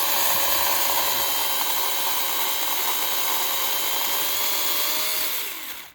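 A Dawreek MK10 cordless pruning chainsaw whines steadily at high speed while cutting, close and loud, then winds down and stops at the end.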